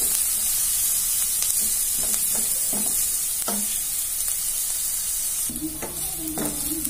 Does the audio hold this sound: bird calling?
no